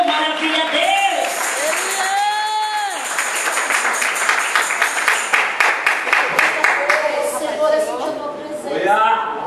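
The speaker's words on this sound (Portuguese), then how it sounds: "Com palmas bem alegres para o Senhor." During a church vigil service, an evangelical congregation claps joyfully. Steady rhythmic handclaps build into a regular beat under a leader's loud voice and worshippers' exclamations.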